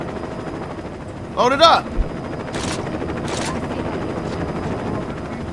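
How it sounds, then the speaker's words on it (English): A helicopter in the video game Saints Row drones steadily as a continuous rotor and engine noise, with brief bursts of gunfire-like sounds and a voice speaking over it. "My helicopter again."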